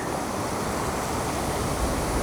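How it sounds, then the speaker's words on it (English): Ocean waves surge and crash against the shore in a continuous loud roar of surf, with wind buffeting the microphone throughout. "We're getting nearly killed by all these waves every single time they come up"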